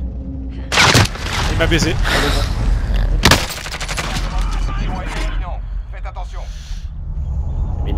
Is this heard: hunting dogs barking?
no